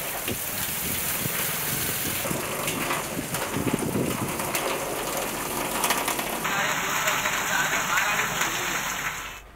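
Heavy storm rain falls in Pakistan, a dense steady hiss of rain hitting surfaces with rattling clatter, continuous and loud, and a voice is heard over it.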